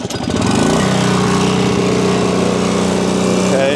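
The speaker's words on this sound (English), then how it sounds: "let's start with this regular generator" A regular, non-inverter off-grid portable generator runs steadily up close, its small engine producing a loud, constant buzzing drone with a rapid mechanical chatter throughout.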